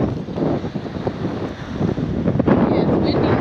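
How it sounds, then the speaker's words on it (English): Steady gusty wind buffets the microphone at a beach with tide pools on Puerto Rico's coast, a broad continuous roar swelling slightly toward the end, with surf likely mixed underneath. "Yeah, it's windy."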